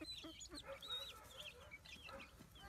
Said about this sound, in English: It's just me sometimes feeding the chickens with fish to implement them with more protein